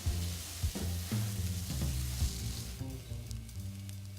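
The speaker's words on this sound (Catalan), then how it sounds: "hi afegim l'arròs i el fregim lleugerament" Rice fries lightly in a pan for arròs de gambes i botifarra negra, with a continuous, moderately loud sizzle, and stirring is heard now and then.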